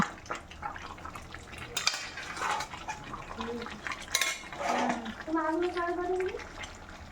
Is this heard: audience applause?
no